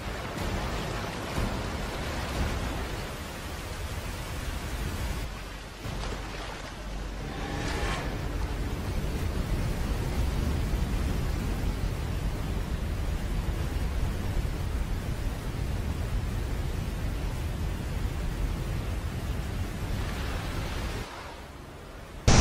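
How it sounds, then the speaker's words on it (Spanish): A steady, dense roar of falling water fills the whole clip, heard from below the Eyipantla waterfall, close and constant, in heavy spray. "Estamos aquí abajo de la cascada"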